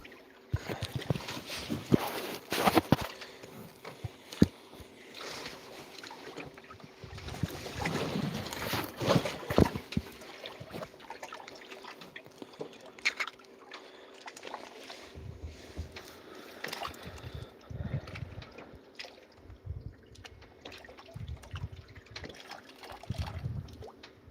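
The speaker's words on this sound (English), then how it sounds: "That northeasterly wind blowing us back." Northeasterly wind buffets a houseboat on the open ocean, a steady roar of gusts and water sloshing against the hull, with a heavy rumbling buffeting toward the end and no talk.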